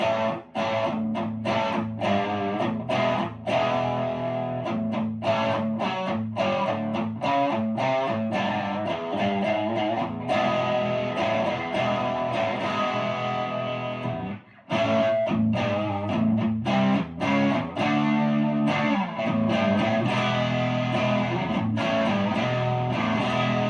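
A heavily overdriven Harley Benton SC 450 P90 electric guitar plays sustained, gritty chords and strummed notes at steady volume, with one brief pause midway.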